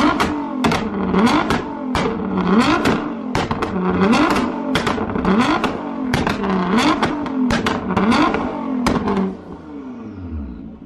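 A 2018 Nissan GT-R R35 with an X exhaust revving hard in repeated sharp blips, each rise ending in crackling pops as it spits flames, about a dozen bursts in quick rhythm before it settles to a lower idle.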